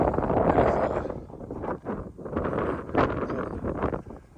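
Strong wind on a sunny 36-degree January day in Oregon buffets the microphone in loud, rumbling gusts that rise and fall, with no one speaking.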